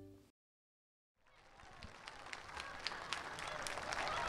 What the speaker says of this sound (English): as you can hear the cheering here in the stadium